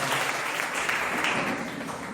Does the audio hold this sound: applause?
yes